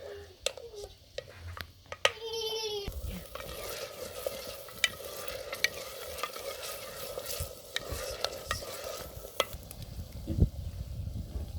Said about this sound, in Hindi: प्याज को हमने गोल्डन ब्राउन करना है, ज़्यादा गोल्डन ब्राउन, तकरीबन दरमियाना सा करना है।